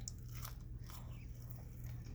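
Crinkle-cut fries from Nathan's being bitten and chewed plain, a close, continuous soft crunching over a low background hum.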